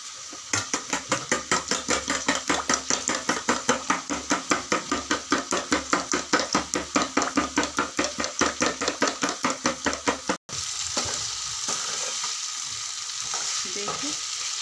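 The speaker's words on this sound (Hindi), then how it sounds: "अच्छी तरह से 5 मिनट तक भून लूंगी मैं।" Onions fry and are stirred in a pan, a steady close sizzle with fast rhythmic scraping strokes for about ten seconds, then a brief pause and continued sizzling alone with no speech.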